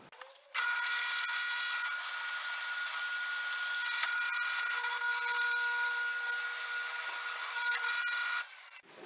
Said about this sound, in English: you're going to be drilling until the top of this bit is flush with the top of your